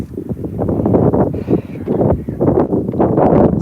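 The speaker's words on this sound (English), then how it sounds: "Sorry about the wind, but it is winter here in Illinois." Winter wind buffets a microphone outdoors in Illinois, producing loud, gusty rumbling and rustle that surges and dips continuously.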